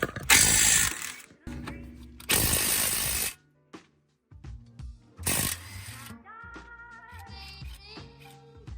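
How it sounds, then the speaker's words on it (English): An impact driver with a 19mm socket removes coilover bolts on a 7th-generation Toyota Celica GT, with loud buzzing bursts of hammering followed by quieter metallic clinks and bolt handling sounds close by. "take your 19mm socket, your other impact driver, and you want to get these two bolts off."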